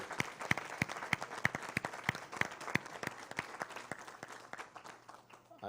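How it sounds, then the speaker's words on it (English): A small crowd at a state assembly STEM education town hall applauds with distinct, fairly sparse claps that continue steadily and thin out toward the end, heard at moderate distance. "We should give them some applause for their work here today."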